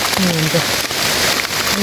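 Rain falling in a forest during a mushroom hunt, a steady broadband hiss filling the whole clip, with a voice heard over it.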